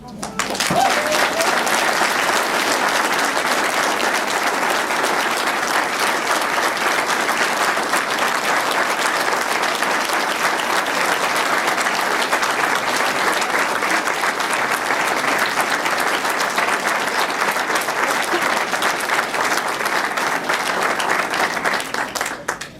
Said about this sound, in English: This will go down in history as the day that the new director got a standing ovation from half the crowd